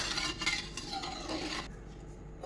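A spoon scrapes and stirs through channa rice in a cooking pot, a short burst of close metallic rubbing and clinking that stops abruptly near the end.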